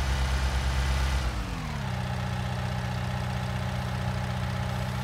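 A tractor engine running steadily, a loud low drone whose pitch drops partway through and then holds at a lower idle, with no voices.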